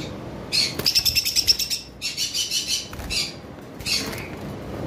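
A pair of violet opaline lovebirds chirping, bursts of rapid high-pitched twittering in a few clusters, close and moderately loud, with quieter gaps between them and no speech.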